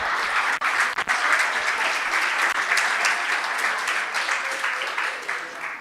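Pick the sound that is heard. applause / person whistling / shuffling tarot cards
applause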